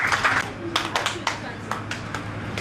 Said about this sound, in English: Please clap for him to release this.